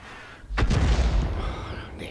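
A sudden deep boom of an SU-5 self-propelled artillery shot in World of Tanks, rumbling and rolling off over a second or two, heard over quiet game ambience.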